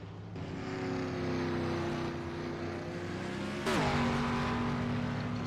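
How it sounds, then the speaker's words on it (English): Race cars on a short-track oval during a Friday night race, a loud steady engine drone that rises into a sharper pitch swing as a car passes, with no commentary over it. "Stuart Forgy in that 35 car in the pits this afternoon here."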